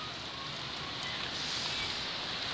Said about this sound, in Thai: บรรยากาศฝนตกครับฝนตกอากาศกำลังดีครับ